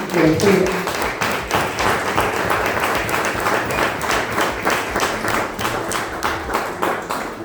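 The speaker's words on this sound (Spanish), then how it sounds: "Denle un aplauso al Señor." A congregation at a Spanish-language church service claps steadily for the whole stretch, a dense, even patter of many hands with a few voices rising over the start.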